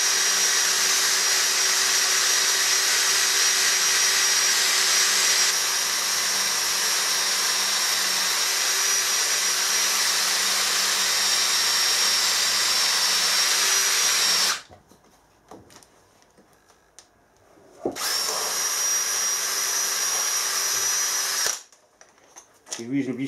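A power drill whirs loudly and steadily for about fourteen seconds, cuts off, then runs again for a few seconds before stopping.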